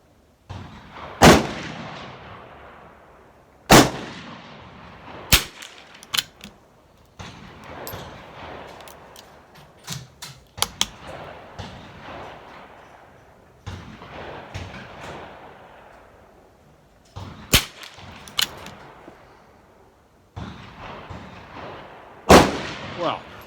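A Vickers rifle is fired at an outdoor range during match preparation, with about nine loud, sharp single shots spaced several seconds apart. Each shot rings out with a decaying echo, and quieter handling sounds fall between them.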